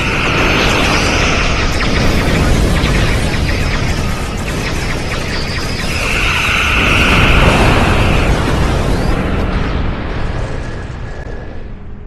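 Starship weapons fire and explosions in the space game Star Trek Online, a dense continuous roar of blasts and rumbling booms with whining energy-beam tones swelling through, loud and sustained throughout.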